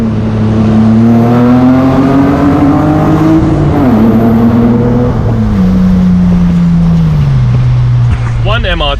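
A Toyota MR2 swapped to a V6 engine revs hard while driving, its loud, close engine note rising through the gears and then dropping as it eases off, continuous throughout.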